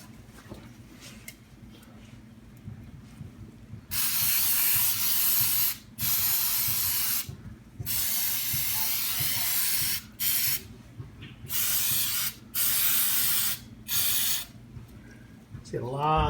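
Aerosol cleaner sprayed onto Dr Pulley sliders and pulley parts of a Super8 150 scooter, hissing in several bursts of a second or two with pauses between, close and loud, with low background rumble.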